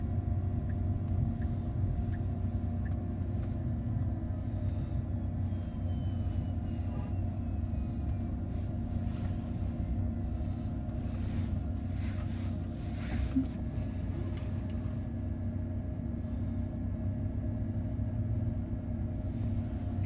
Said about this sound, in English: Boy, that HVAC fan is ripping.